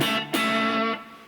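Electric guitar playing the ending of measure 32 of a song, a quick double pull-off to the open D that rings out and fades, close and without talk.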